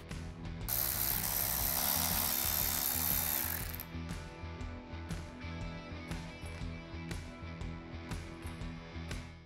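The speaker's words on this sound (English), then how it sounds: "So to take this rotor off, you have 5 screws and they're a T40." A power tool whirs loudly for a few seconds while backing out T40 Torx screws from a brake rotor on a custom bagger motorcycle's front wheel, followed by a series of quieter ratcheting clicks and metallic handling sounds.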